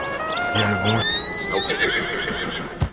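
A horse in the video game Red Dead Redemption 2 whinnies in a long shrill neigh, with a low snort and a sharp thud near the end, close up.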